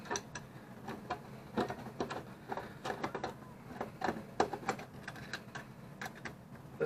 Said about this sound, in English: So bear with me while I go ahead and unscrew those.